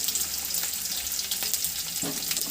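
Sliced onions fry in oil alongside potatoes, giving a steady, close sizzle with a faint clunk of stirring near the end. No one speaks.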